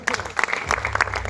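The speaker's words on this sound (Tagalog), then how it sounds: "Ayun, mahina yung palakpak." Scattered, thin applause from a modest audience at a SWAT acceptance night ceremony, a few hands clapping unevenly with murmuring behind it.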